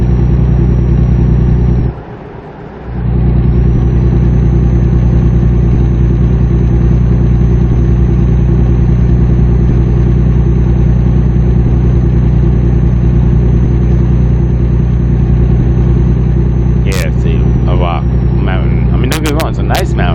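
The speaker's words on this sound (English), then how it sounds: "Let y'all get back to just hearing the engine." A truck engine in American Truck Simulator drones steadily and loudly throughout, briefly dipping in level early on, with some faint clicks and interface sounds near the end.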